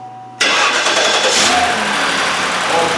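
A Cadillac DTS engine catches abruptly after a quiet moment, then settles into a loud, close, steady idle with a brief rise in revs just after starting.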